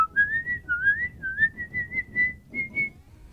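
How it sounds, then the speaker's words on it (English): A person whistling a meandering tune, a clear, close melody of wavering held notes with soft game sounds faintly underneath. "Maybe I'll whistle a little bit."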